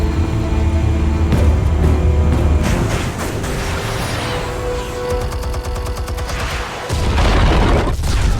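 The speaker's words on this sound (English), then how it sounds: "Explosives armed. Fire when ready." Explosives detonate in Batman: The Telltale Series, with deep booms followed by rumbling blasts and rapid crackling bursts like gunfire. The sound is loud and dense, dips briefly, then surges again.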